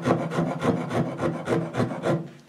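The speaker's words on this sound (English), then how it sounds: "the rasp is good to get started" A wood rasp smooths a guitar neck made from scrap wood with about nine rhythmic scraping strokes, close and clear with no talk.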